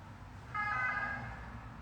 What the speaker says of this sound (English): I think that might have been a broken ambulance.